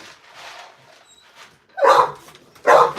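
Dogs kept in cages bark, a few faint distant barks first, then two loud close barks near the end, with no one speaking.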